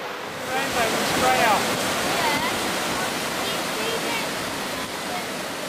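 Rushing waterfall along a wooden-stepped walking track on New Zealand's South Island, a steady broadband roar filling the whole clip, with faint bird calls over it.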